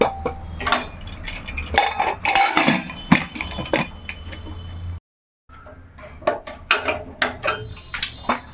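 Metal pots and lids clank and rattle on a stove as a pressure cooker is set in place, with a burst of loud knocks, a short silent gap, then more clattering thuds close by.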